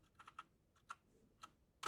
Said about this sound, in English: Let's try it by typing